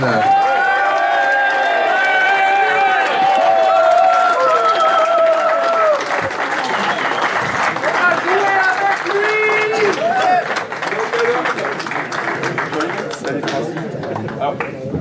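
Audience applause and scattered cheers at a football club anniversary ceremony in Mutzig, a sustained crowd clatter of many hands under a voice and other talk throughout.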